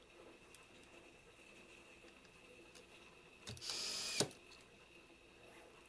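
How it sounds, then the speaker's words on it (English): A powered quick driver runs a screw in during an assembly job, giving one short, fairly close buzzing whir that stands out over a quiet room. "now I'm going to take the the quick driver here and run in 6 screws"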